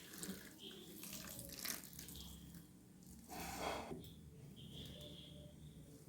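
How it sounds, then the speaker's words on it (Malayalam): Coconut milk is poured into chempa (red rice) puttu flour, making a soft, quiet liquid trickle and splash that swells in the middle of the stretch, with faint kitchen background and no talking. "ഇതിലേക്ക് നമുക്ക് എടുത്തു വച്ചിരിക്കുന്ന തേങ്ങാപ്പാൽ ഒഴിക്കും"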